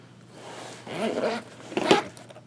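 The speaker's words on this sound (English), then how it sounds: "And it is the YKK zipper." A YKK zipper on a pen case is pulled in two short raspy strokes, the second sharper and louder, close up in a quiet room.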